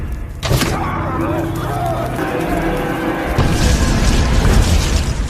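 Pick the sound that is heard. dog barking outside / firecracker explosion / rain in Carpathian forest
firecracker explosion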